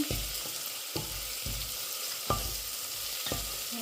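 Crab pieces fry in a pan with ground ginger and garlic for a spicy crab curry, a low constant sizzle broken by repeated scraping thumps of a spoon stirring close up.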